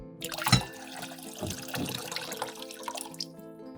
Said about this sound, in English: After 15 minutes, pour the water from the jar into a pot.